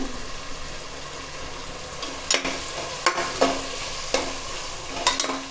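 Tomatoes, green chilies and onions fry in a pan, giving a steady close sizzle broken by several sharp scrapes and clanks as a spoon stirs them, with no talking.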